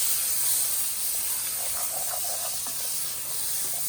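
Steady, loud hissing steam rises from a dark Cajun roux in a pot right after frozen vegetables are added. It is a continuous sizzle with faint crackles running through it, and no one talks.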